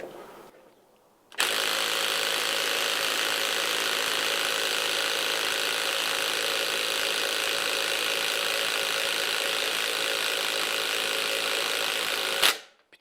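Ryobi impact wrench on a socket loosening a nut, a loud continuous rapid hammering rattle that starts abruptly and runs steadily for about eleven seconds before stopping.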